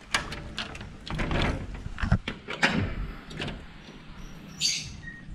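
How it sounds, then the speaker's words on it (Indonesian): A door being opened in the early morning at home, heard as a few close clicks and sliding knocks with a brief rattle, moderately loud, with no talk. "Mari kita buka pintu dulu"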